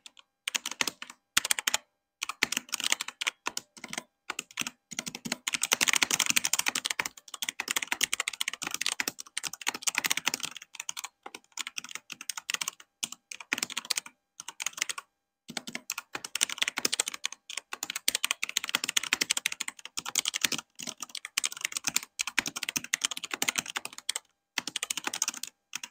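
Fast, clacky typing on a Mountain Everest Max RGB mechanical gaming keyboard in bursts with brief pauses, close and crisp, no talking.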